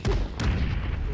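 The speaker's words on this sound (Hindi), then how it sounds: "ये गोली कर रहा है" Gunfire in a multiplayer shooter video game's TDM mode: two sharp, loud shots in quick succession, each with a short booming tail, with no talk.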